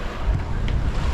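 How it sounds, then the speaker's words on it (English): Wind roars steadily against the microphone aboard a sailing boat off Iceland, loud and gusty with rumbling low buffeting throughout. No voices are heard. "Suddenly the wind is back."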